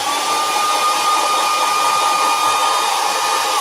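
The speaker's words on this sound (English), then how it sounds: "So a hairdryer on a low setting will give it a little bit of a kick." A hair dryer on a low setting blows steadily to dry freshly airbrushed paint, a continuous close whirring hiss with a faint whine, unbroken and alone throughout.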